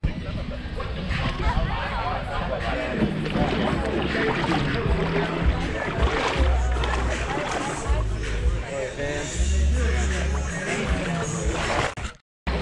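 A Sea-Doo Spark personal watercraft, rebuilt by hand, runs on the St. Johns River with a steady engine drone and water rush, while people talk over it throughout.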